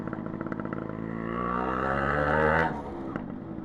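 An RX135 two-stroke motorcycle engine revs up steadily to a loud, buzzing peak, then drops back to idle, close by.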